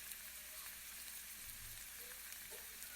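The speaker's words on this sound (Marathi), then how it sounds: "हे आपण सोनेरी रंगावर चांगले तळून घेऊया" Banana fritters made from ripe bananas fry in oil until golden, giving a soft, continuous hissing sizzle that stays faint and even throughout, without speech.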